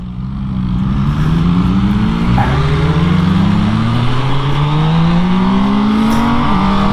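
An MV Agusta Dragster motorcycle accelerates hard through several quick-shifter gear changes, its engine note rising loud and close, dipping briefly with each crisp clutchless shift, then climbing again.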